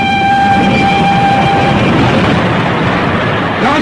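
A train rushes past at close range, a loud steady roar of wheels and carriages with a sustained horn-like tone sounding over the first half before the rumble continues alone.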